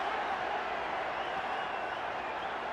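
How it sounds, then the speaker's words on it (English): A boxing crowd at Cowboys Stadium roars in a steady, dense wash of cheering and applause, sustained and loud throughout. "listen to the response of the crowd"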